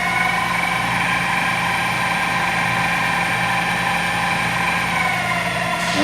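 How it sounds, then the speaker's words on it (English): A Prep Master Junior floor grinding machine runs continuously at a steady speed, with a loud, even mechanical whine and hum that holds for several seconds, alone, with no talk. "This will be a sound to hear how fast it's going."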